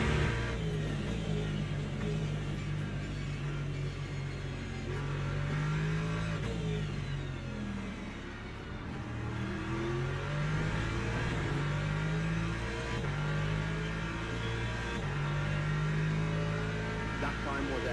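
Le Mans Ultimate racing game hypercar engines, a continuous droning rev that rises and falls through gear changes, steady and fairly loud, with a voice talking over it now and then.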